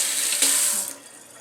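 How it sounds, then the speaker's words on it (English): Tap water runs steadily into a sink as hands are washed, a bright, close hiss that drops off after about a second to a quieter trickle. "wash your hands,"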